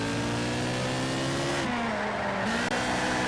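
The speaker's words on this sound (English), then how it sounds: "Ferraris go brr." A Ferrari racing car engine in Test Drive: Ferrari Racing Legends drones loudly and steadily, its pitch dipping and shifting between gears, with a faint tire squeal.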